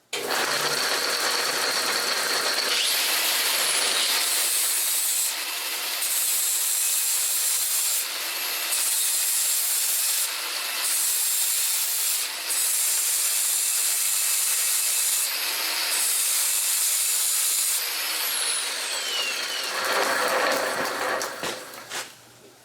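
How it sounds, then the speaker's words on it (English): An angle grinder works a tractor draft rod from a John Deere Z Track zero-turn mower, a loud, continuous high whine with grinding rasp sustained for about twenty seconds, dipping briefly several times before winding down. "since I don't have the cutter set up, I'm going to just do this with the grinder"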